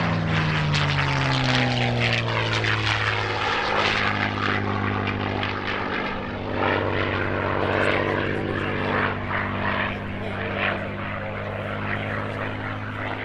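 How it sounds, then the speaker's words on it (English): A P-51C Mustang, named Thunderbird and modified post-war into an air racer, flies in the display at EAA AirVenture Oshkosh 2023, its propeller engine droning loud and steady with pitch shifting as it passes. "Here's Bernie Vasquez in P-51C Mustang Thunderbird."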